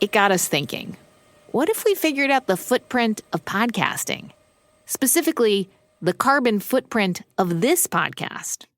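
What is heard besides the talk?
No distinct noise like a dog, phone or traffic.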